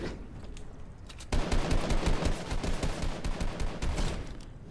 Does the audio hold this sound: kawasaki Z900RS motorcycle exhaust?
no